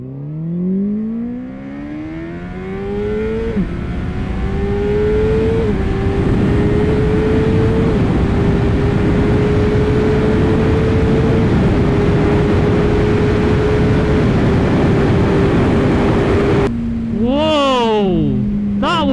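A 2015 Honda CBR 600 RR motorcycle accelerates hard on a test ride, its engine note climbing in pitch through several upshifts with strong, continuous wind roar, then a brief high rev near the end.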